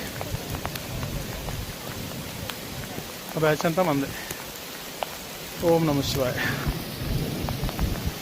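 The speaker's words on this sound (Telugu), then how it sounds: "ఉరుములు ఉరుముతున్నాయి, ఓ అడగళ్ళు పడుతున్నాయి" Thunder rumbles over steady rain and falling hail on a mountain trail near Madmaheshwar, a dense continuous patter with deeper swells, while people talk and chant nearby.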